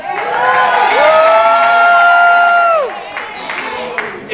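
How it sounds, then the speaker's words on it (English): A crowd at a live wrestling show in a theatre cheers and whoops loudly, with sustained shouting voices rising and falling over several seconds before dying down. "Get a cheer, come on."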